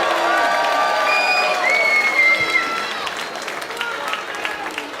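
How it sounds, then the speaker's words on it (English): Crowd applause and cheering fill a Muay Thai arena after a five-round women's bout between Iman Barlow and Hannah Brady, a steady loud wash of clapping that tapers slightly near the end. "a massive round of applause for both of these ladies after 5 superb rounds of action"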